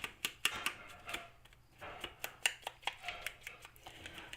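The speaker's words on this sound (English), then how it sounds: "Yes, that's Joe, you guys, with the pots and pans." Pots and pans clatter in the background during a garland-making craft class, a run of light, sharp metallic knocks and taps at an irregular rhythm, fairly quiet.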